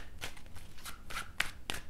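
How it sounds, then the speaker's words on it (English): Tarot cards being shuffled by hand, a run of quick, crisp riffling bursts, close and fairly quiet, with a few sharper snaps near the end and no talking. "a few more shuffles and see what's happening for you."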